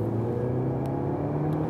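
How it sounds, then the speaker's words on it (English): A Citroen DS3 hatch accelerates hard from 30 to 70 in second gear, its engine a steady, loud rumbling drone heard from inside the car with no talk over it. "show you some acceleration, for example, from 30 to 70 in the second gear."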